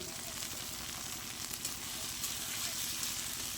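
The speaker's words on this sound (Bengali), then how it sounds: "টমেটো কুচিটাকে মশলার সাথে ভালো করে ভেজে নেব।" Chopped tomato frying with spices in a pan, a dense, even sizzle and crackle of hot oil running throughout at close range, with no speech over it.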